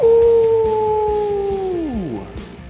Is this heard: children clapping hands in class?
no